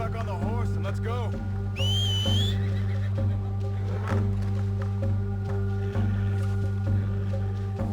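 Horse in Red Dead Redemption 2 gameplay letting out a high whinny over a steady drone of game ambience, with faint hoof clops and other game sounds around it.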